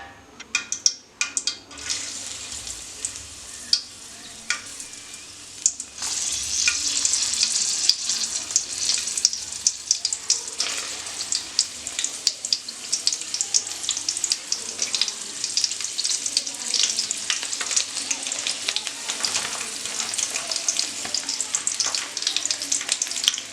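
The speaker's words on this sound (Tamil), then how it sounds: "இப்போ எண்ணெய் வெது வெதுன்னு சூடாயிருச்சு அடுத்து செம்பருத்தி பூவை போட்டுக்கணும்" Hibiscus flowers go into warm homemade ashwagandha hair oil and fry with a dense, crackling sizzle that starts quietly, then swells and keeps bubbling steadily, close and unbroken by talk.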